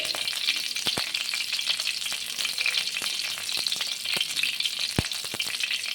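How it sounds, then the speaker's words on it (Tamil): Spices fry in hot oil for an egg rempah, giving a steady close sizzle and crackle with occasional sharp taps of a spoon against the pan, no voices. "நல்லா வாசம் வர அளவுக்கு நல்லா பொரிய விட்டுட்டு"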